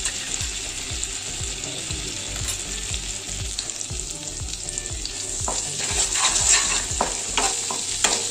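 Turmeric, red chili powder and coriander-cumin powder frying in oil in a pan, a loud steady sizzle with a rhythmic series of spoon scrapes and taps against the pan, getting busier toward the end, with no talking.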